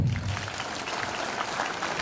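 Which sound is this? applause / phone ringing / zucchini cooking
applause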